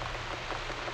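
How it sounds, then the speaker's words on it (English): Steady, dense rain patters on a surface in The Room video game, a continuous soft hiss of drops with no voices. "Is it raining outside?"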